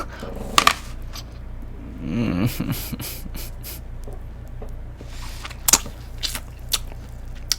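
Someone bites and chews a six-month-old, mushy apple up close, with a few short wet bites and soft squelchy chewing between quiet breathy pauses.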